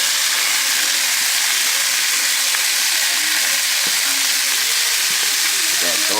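Onions for chicken stew (pollo guisado) sizzle loudly and continuously in a hot pan, a dense steady hiss up close with faint scraping of stirring underneath.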